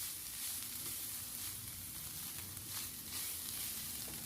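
Shredded boiled chicken stirred in a frying pan, with a steady close sizzle and faint scraping of stirring, no talk.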